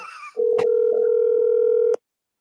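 A single steady telephone tone sounds loud and close for about a second and a half, right before a call goes through to voicemail, preceded by a brief bit of voice and ending abruptly.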